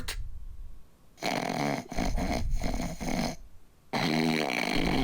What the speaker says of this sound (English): his snoring is so bad